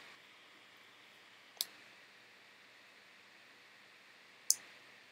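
Two sharp, isolated computer mouse clicks a few seconds apart while software is installed on Windows, close and crisp over a faint steady hiss.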